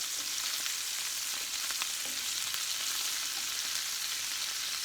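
Food sizzles steadily in a hot pan while being fried and flipped to cook on both sides, a constant close crackling hiss with small pops throughout and no talking.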